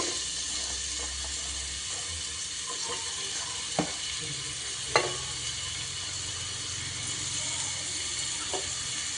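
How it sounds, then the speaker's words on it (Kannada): Onions frying in hot oil in a pan for a Kannada eggplant curry, giving a steady close sizzle with a few soft clinks of stirring and no talk. "ಈ ಈರುಳ್ಳಿಯನ್ನು ಸ್ವಲ್ಪ ಫ್ರೈ ಮಾಡ್ಕೊಳ್ಳೋದು"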